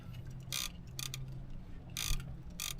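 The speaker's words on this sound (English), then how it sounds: "I'm gonna have to reel everything up and try to get to the other side" A fishing reel on a boat on a river winds in line in short ratcheting bursts, close and fairly quiet, with gaps between turns.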